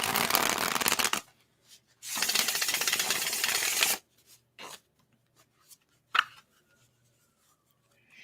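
Tarot cards shuffled in two long, loud bursts of dense riffling, each lasting about a second or two, followed by quieter scattered card taps and handling sounds.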